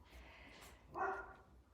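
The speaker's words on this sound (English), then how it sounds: "Is that your sister barking?" A dog barks once at moderate distance indoors, a short burst rising over a low background hum, probably a playful bark from a young adult dog in a home with newborn puppies.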